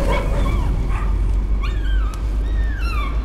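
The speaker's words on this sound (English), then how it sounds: "I remember the dogs, man." Dogs in the horror video game Layers of Fear bark and whimper repeatedly, with several short yelps and whining cries over a low rumbling ambient drone, fairly close and loud, with no talking.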